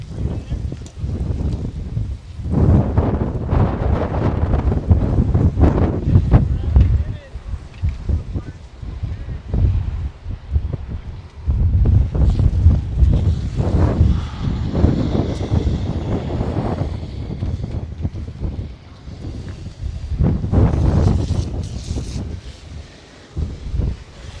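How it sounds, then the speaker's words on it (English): Strong, very gusty wind near an apartment fire, buffeting the microphone in heavy rumbling surges that rise and fall every few seconds, loud and close throughout. "at moments, the winds are kind of pushing me into the fence. Like they're gusty, very, very gusty."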